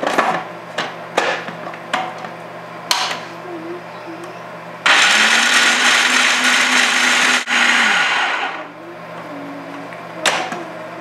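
A blender chops soaked, dehydrated almonds: loud whirring bursts of motor roar lasting a few seconds, with short pulses and clattering knocks before and after.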